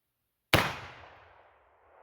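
A Remington 1858 New Model Army .44 caliber revolver loaded with real black powder fires a single loud, close shot outdoors at a shooting range, followed by a long, fading echo after a moment of silence.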